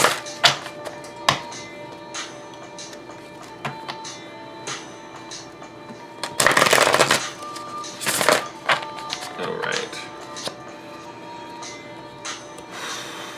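A thick deck of tarot cards riffles and flutters in a couple of bursts, close by, amid soft scattered taps and handling noises, with no talking.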